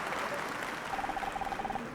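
In the puzzle-mystery game Murder By Numbers, a crowd applauds in a steady wash of clapping, joined midway by a rapid, regular hooting pattern.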